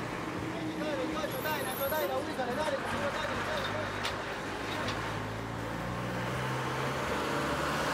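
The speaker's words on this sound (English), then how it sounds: "The busy square of San Isidro is a good place for bus spotting." Busy traffic with buses and cars rumbles steadily in the square of San Isidro, Peru, a continuous mid-distance roadway drone with murmuring voices mixed in.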